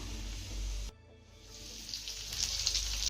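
Sliced onion added to garlic already frying in a pan, producing a steady close sizzle that drops briefly as the onion goes in, then builds back up into brighter crackling frying.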